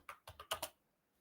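Five quick keystrokes on a computer keyboard while a location is entered into a real estate search site, close and faint, followed by quiet.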